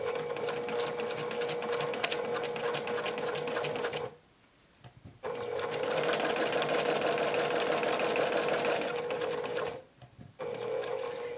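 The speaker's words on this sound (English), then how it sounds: "So go ahead and start sewing." A sewing machine runs in long steady stretches stitching a fabric face mask, with two short pauses between runs, close and loud with no talking.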